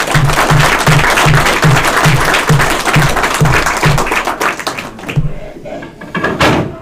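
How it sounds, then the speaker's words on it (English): Applause fills a Hall of Fame ceremony, steady loud clapping through most of the stretch, punctuated by a regular low thumping beat, then thinning into scattered claps near the end. "So, one more round of applause for Ed Dixon."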